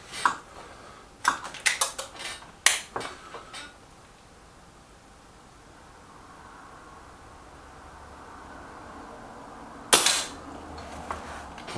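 Sharp crack of a Kral Puncher Maxi air rifle firing a target shot, a single clear report near the mic followed by quiet, with scattered clicks and handling noises earlier.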